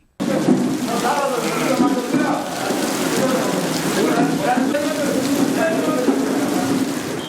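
Steady, heavy rain from a deep depression hisses evenly throughout, with faint voices underneath.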